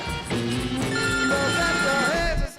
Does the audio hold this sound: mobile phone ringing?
yes